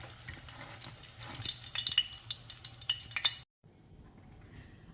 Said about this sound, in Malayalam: ഒരു മൂന്ന് പീസോടെ ഉണ്ട് അതും കൂടെ വറുത്തെടുക്കാം